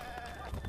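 A mountain goat in Zelda: Breath of the Wild gives a short, faint bleat, a brief nasal cry in a quiet game scene.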